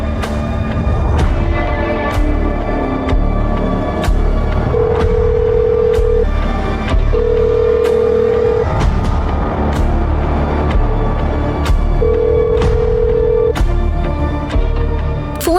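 Phone call ringing unanswered in a TV drama scene, with repeated short ringback tones sounding at intervals over continuous background music and rumble.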